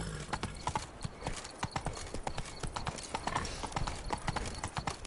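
Horse hooves galloping in The Witcher 3, a steady rapid clip-clop rhythm running close and loud throughout, with no voices over it.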